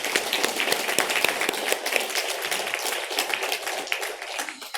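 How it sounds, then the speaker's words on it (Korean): A Korean church congregation claps during Sunday worship to encourage a founding member who has returned after illness. The claps are quick, overlapping and close, forming a steady, lively patter that lasts the whole stretch. "박수로 격려하겠습니다"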